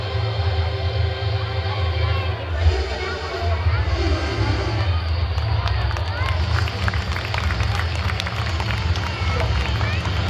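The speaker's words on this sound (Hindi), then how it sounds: "तालियां।" Sustained, dense audience applause fills a school event hall after a student performance on India's space programme, steady and loud throughout with faint tonal music underneath.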